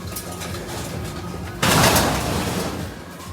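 Hungry pigeons in a loft at feeding time, low cooing and bird calls under a rustling din that jumps sharply louder partway through, then eases.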